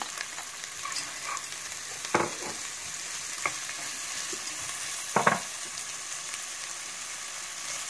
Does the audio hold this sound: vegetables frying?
yes